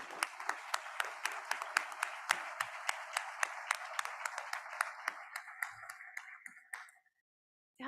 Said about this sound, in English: let's give ourselves a round of applause for yourself and your colleagues